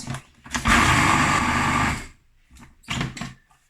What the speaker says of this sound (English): So it needs to now be blended.